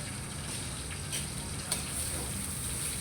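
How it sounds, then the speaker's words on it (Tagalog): Milkfish (bangus) fries in a pan with oil kept from splattering, giving a steady, close, dense sizzle that runs unbroken throughout with no talking. "Ang pagprito ko ng bangus na hindi tumatalsik"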